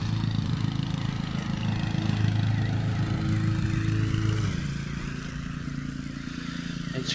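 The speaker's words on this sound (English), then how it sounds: "Excuse the lawnmower." A lawnmower runs with a steady mid-pitched engine drone in open countryside, moderately distant, easing off and fading somewhat toward the end.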